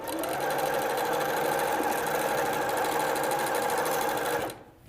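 A sewing machine runs steadily at close range, stitching quilt binding strips together in one continuous chain, its rapid mechanical whir holding even until it stops abruptly near the end.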